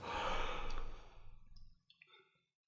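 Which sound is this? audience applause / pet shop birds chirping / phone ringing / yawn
yawn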